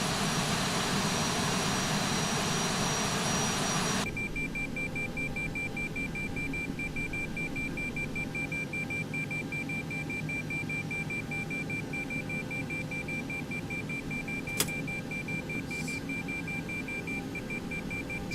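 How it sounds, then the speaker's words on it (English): A cockpit warning in an X-Plane 11 Boeing 737-800 flight simulation beeps in a steady, repeating pattern over a constant jet engine roar, with no talking. "I have no clue what's causing the beeping."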